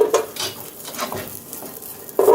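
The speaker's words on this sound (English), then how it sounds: "I'm gonna add my salami in there" Salami slices dropped into a dry pot on medium-high heat with no oil, giving soft clattering and stirring scrapes with a light sizzle, plus a louder knock of the utensil at the end.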